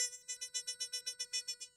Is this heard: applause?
no